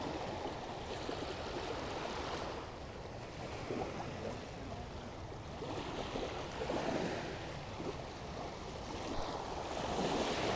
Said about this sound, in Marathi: भरती सुरू झाली आहे आणि हवा पण आहे थोडी त्याच्यामुळे या लाटा पण आता थोड्या वाढल्या आहेत